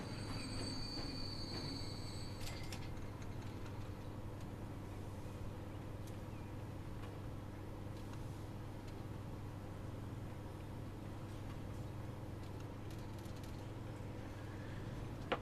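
Freight train in the Transport Fever game pulling away, a steady low rumble of rolling wagons with wheel squeal and faint clatter running continuously throughout, with no talking.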